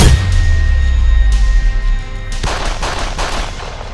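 Firecrackers set off in celebration in Badlapur, Maharashtra, burst in a quick, loud cluster of sharp cracks and pops after a low, steady rumble.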